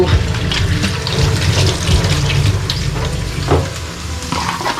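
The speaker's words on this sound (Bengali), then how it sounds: "মরিচ পেঁয়াজ সব দাও, একটু নাড়াচাড়া দাও" Chillies and onions sizzle loudly in hot oil while being stirred for a chicken dish, a close, steady frying hiss with clattering scrapes and splashes throughout.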